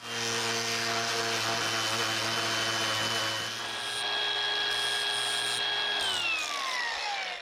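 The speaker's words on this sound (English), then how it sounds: "Now we can finish cutting out this plate with our metal cutting wheel" Metal cutting wheel slicing through a steel plate for a minibike chain tensioner, a steady high whining grind close by that holds level, then the motor pitch drops as the wheel winds down near the end.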